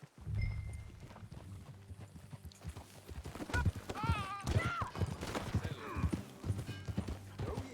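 Horse hooves clip-clop in a steady walking rhythm in the video game Red Dead Redemption 2, with a whinny and a brief snort breaking in partway through and low background music underneath.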